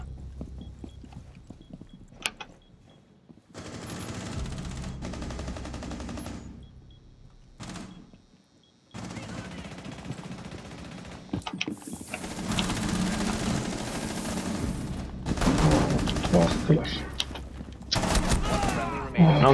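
Bursts of gunfire in Rainbow Six Siege, several stretches of rapid shots with a pause between, loud and close, mixed with game effects and talk.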